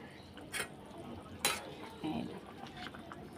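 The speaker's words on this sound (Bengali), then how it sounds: "সব দিয়ে দিলাম এক এক করে মাছগুলো দিয়ে এখন নাড়াচাড়া একটু দিয়ে দেবো" Fish simmering in curry sauce, stirred gently: faint bubbling under a few scattered scrapes and clinks of a utensil against the pot, quiet and close.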